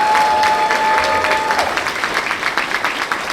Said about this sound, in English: Give them a round of applause if you think they earned it today.